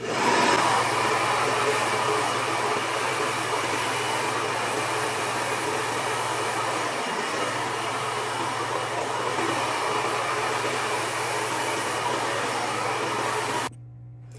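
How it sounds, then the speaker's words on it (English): Hair dryer blowing steadily while hair is blow-dried at home, a loud continuous whooshing roar with a steady motor hum that runs unbroken for most of the stretch, then cuts off near the end. "you're so close to a good blow dry"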